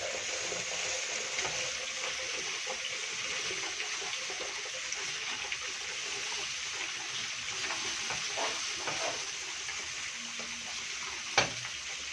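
Ingredients for Egyptian koshari being stirred and turned in a frying pan, a soft steady sizzle with faint scraping and clinks throughout and one sharp metallic tap near the end.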